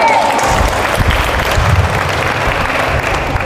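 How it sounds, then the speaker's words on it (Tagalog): Audience at a church service in Caloocan City applauding, a dense, steady patter of clapping throughout with some faint voices mixed in. "Yung mga pumapalakpak na yan"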